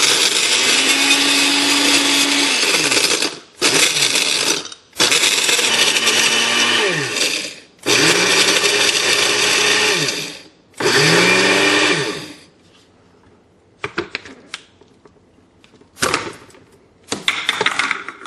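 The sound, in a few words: Cuisinart machine crushing ice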